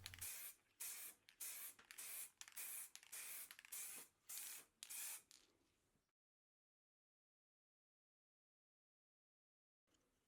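A spray can puffs matte black paint onto a retro Micron TX503 radio microphone in a rapid series of short, close hissing bursts, then stops into silence.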